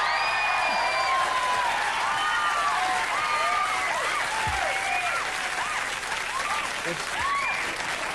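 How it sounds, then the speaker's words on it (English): A late-night television studio audience applauds continuously, loud dense clapping with scattered whoops and cheers, while tonal, warbling sounds sweep over the crowd noise. "They just get together and for no reason they applaud."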